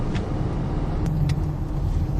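Steady low engine rumble of a car being driven along a road, heard from inside the cabin, with brief faint clicks above the drone.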